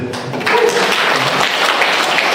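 An audience applauding during a church service in Indonesia: a brief, steady burst of clapping from a crowd, with no talking.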